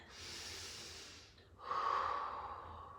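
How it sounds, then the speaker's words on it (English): Two deep breaths during a yoga stretch, a long airy inhale followed by a fuller, slightly nasal exhale, close and quiet with no speech. "Take a couple more breaths. A big inhale and an exhale."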